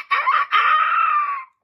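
A voice imitates a rooster crow, one loud drawn-out cock-a-doodle-doo with a short break near the start, heard alone and up close.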